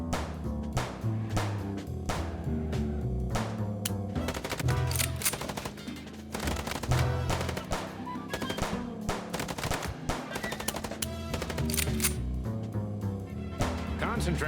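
Rapid bursts of automatic gunfire rattle almost without pause during a video game car chase, loud and dense over engine rumble and music, with voices talking now and then.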